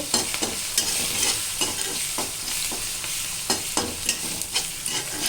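Spoon repeatedly scraping and stirring a pan of frying curry after salt is added, rhythmic clacks over a continuous sizzle, close and fairly loud.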